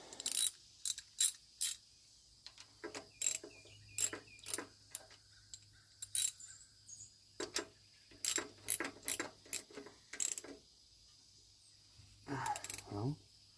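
Someone tightens a threaded fitting on a leaking tractor, producing bursts of quick ratcheting clicks separated by pauses, close and fairly crisp, with no clear speech.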